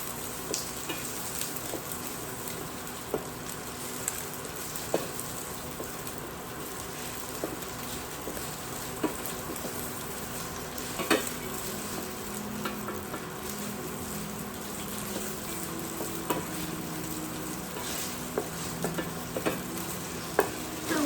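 Vegan ham fries in a pan, giving a steady close sizzle with occasional scraping and stirring taps, and no voices.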